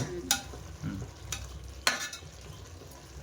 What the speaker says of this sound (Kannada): ಈ ಟೊಮಾಟೊ ಈರುಳ್ಳಿ ಎಲ್ಲ ಚೆನ್ನಾಗಿ ರೋಸ್ಟ್ ಆಗಬೇಕು